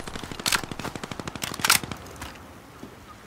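Rapid automatic gunfire in Call of Duty: Modern Warfare, a close, loud burst of evenly spaced shots lasting about two seconds before falling quiet.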